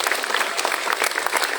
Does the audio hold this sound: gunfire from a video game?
no